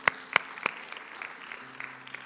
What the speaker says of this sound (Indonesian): Kita kasih tepuk tangan buat mereka yuk.